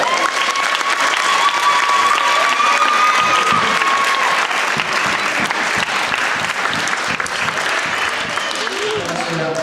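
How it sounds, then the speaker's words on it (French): A loud audience bursts into sustained applause at a martial-arts or judo presentation, thick continuous clapping with crowd noise and a few cheers throughout. "Allez, applaudissez-la bien fort."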